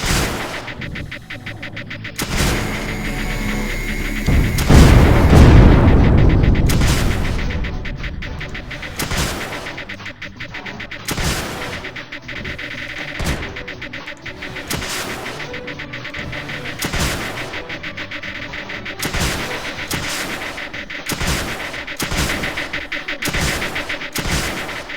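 Launchers in the strategy game Creeper World 2 fire a steady run of sharp, evenly spaced thuds and pops, with a louder rumbling burst around the fifth second, repeating near and clear with no talk over them.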